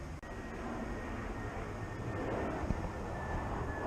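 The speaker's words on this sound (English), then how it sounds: "I'm not going to try to talk over the airplane." A passing airplane overhead makes a steady broad roar that swells slightly over several seconds, heard outdoors from a distance.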